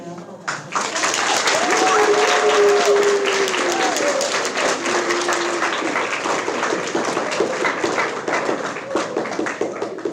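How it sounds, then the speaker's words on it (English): Audience at a 6th grade end-of-year celebration applauds the homeroom students, a dense, sustained wash of clapping lasting about ten seconds, with brief voices rising through it. "Let's give them a round of applause"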